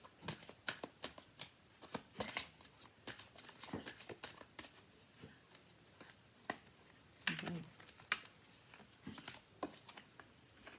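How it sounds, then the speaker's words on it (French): Tarot cards are shuffled by hand at close range, soft irregular riffling flicks and taps in quick bursts, fairly quiet with no talking. "je vais essayer de tirer plusieurs cartes"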